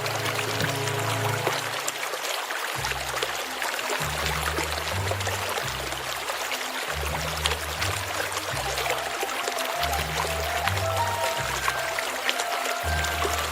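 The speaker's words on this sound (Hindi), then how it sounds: "अभी भी लगता है झरना बहुत ही ज्यादा करीब है जिस हिसाब से आवाज आ रही है।" A nearby waterfall in outdoor woodland roars as a steady, dense wash of rushing water, continuous and fairly loud throughout with no pauses, alongside a low rhythmic rumble underneath.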